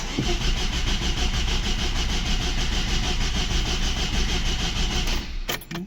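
VAZ 2109 car with a carburetor, after a head gasket replacement and fresh oil, cranking and running loudly and steadily close by for several seconds, then cutting off abruptly near the end.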